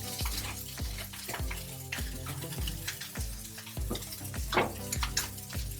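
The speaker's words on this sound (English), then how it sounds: "make sure that it's stuck and searing with the pan" A New York striploin steak seasoned with thyme and garlic sears in a hot pan, giving a steady close sizzle with occasional clatter of utensils, under rhythmic background music.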